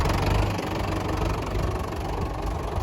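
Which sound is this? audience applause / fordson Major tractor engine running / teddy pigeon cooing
fordson Major tractor engine running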